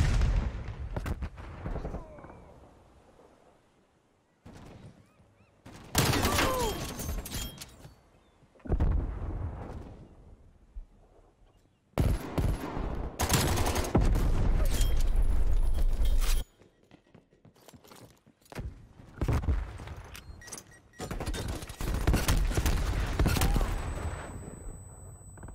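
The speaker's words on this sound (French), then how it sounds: "Elle est un peu nerveuse cette mitrailleuse, hein." Machine gun fire rattles in repeated loud bursts in Call of Duty: Cold War, played in Hardcore mode on the Hijacked map. Quieter game sounds fill the gaps between volleys, and a voice talks between them.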